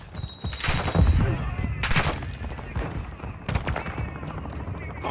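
Call of Duty DMZ firefight, bursts of close automatic gunfire and single shots cracking in quick clusters, with voices talking over the shooting.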